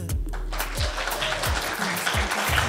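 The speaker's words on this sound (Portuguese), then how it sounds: "eu quero uma salva de palmas para a nossa rainha Diva Abreu" A studio audience at a Brazilian TV program claps for a hostess in a brief burst, loose and uneven, with low thumps running beneath the applause.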